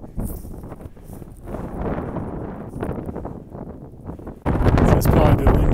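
Wind buffets the microphone in a steady low roar with rustling on the Appalachian Trail, growing noticeably louder and harsher in the final second or so.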